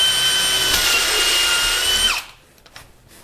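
A power drill fitted with a Luna BIM LBH-2 bimetal hole saw whines steadily as it cuts a hole for about two seconds, then winds down and stops, leaving faint clicks.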